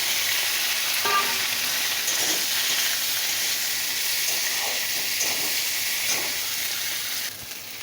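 Potatoes and okra fry in a pan, giving a strong, steady sizzle with occasional stirring scrapes, close and alone, easing slightly at the end.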